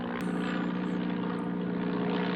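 A propeller airplane drones steadily overhead in a 1960 film scene, a continuous loud engine hum with a faint high whine and no voices.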